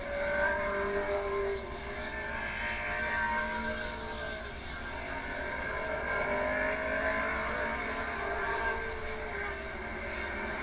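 Race cars circle the track at Bridgecity Speedway in 1986, engines droning steadily with a rising and falling roar as the pack laps continuously, a sustained blended engine noise with no distinct passes standing out.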